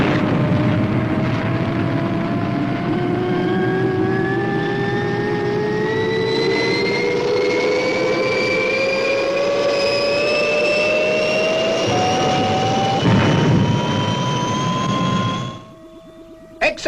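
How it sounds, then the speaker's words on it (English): The Fireball XL5 spaceship lifts off with a loud, sustained roaring engine whose pitch climbs steadily for about fifteen seconds before cutting away abruptly, with no voices over it. "Release winches and stand by for liftoff."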